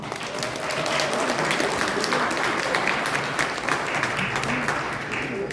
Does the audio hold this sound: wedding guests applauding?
yes